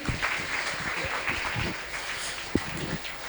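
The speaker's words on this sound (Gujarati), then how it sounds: "દરેક વિદ્યાર્થીઓ માટે જોરદાર તાળીઓ થઈ જાય" A school audience claps for scholarship students, a steady round of applause with scattered distinct claps and one sharp louder clap near the end.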